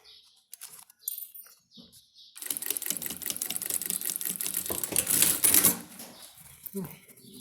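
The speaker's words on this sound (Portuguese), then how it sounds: "Devagar, vamos lá, retrocesso. E vou costurando." Sewing machine stitching a bag, starting with a few slow taps and backstitch, then a close, rapid chattering run for several seconds before slowing and stopping, with brief speech nearby.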